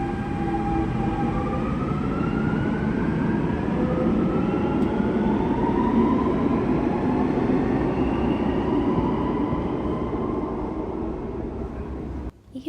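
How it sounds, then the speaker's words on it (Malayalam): A metro train runs past in the rain, a steady broad rumble and hiss holding loud and even for about twelve seconds with faint rising tonal whines over it, easing slightly near the end. "ഈ ഒരു ക്ലൈമറ്റിൽ ആ മെട്രോ പോകുന്നത് കാണാൻ നല്ല രസമുണ്ടായിരുന്നു."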